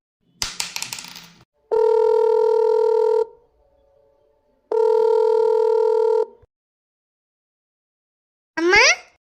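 Telephone dialing for a call: a rattle of handling, then two long steady dial-style tones with a short pause between them and a brief rising chirp at the end, clear and close with no talking.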